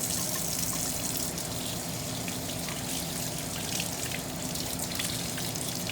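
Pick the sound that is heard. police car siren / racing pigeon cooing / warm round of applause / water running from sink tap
water running from sink tap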